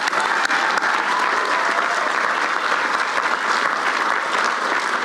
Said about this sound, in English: So how about a round of applause for the families?